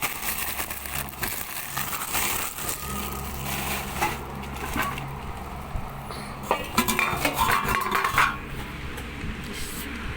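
Traditional Odia household metal plates and glasses clink and clatter as they are handled and set down, with scattered close rattles and a busier burst of ringing chinks near the end, no one talking.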